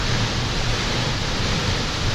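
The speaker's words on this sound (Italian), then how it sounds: "Ed eccoci alla cascata" The Pissandul waterfall roars as a dense, steady broadband rush of falling water, loud and close, continuous without breaks or voices.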